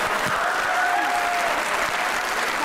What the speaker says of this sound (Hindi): कुछ लड़के तो अभी तक तालियां बजाए जा रहे हैं